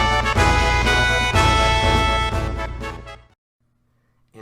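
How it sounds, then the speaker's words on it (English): Orchestral game music from the Final Fantasy VII soundtrack, the Rufus welcoming ceremony: a dense, loud ensemble that swells, then fades out to near silence before a quiet low note returns at the end. "The first one is the Rufus welcoming ceremony from the Final Fantasy VII soundtrack"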